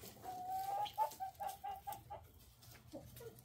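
A chicken clucks nearby in a quick run of short rhythmic notes that taper off, fairly faint over a low background hum.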